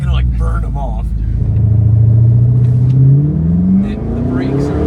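A car's engine set to sport mode with traction control off revs and accelerates, a loud, close rumbling drone climbing steadily in pitch, with brief talk over it near the start.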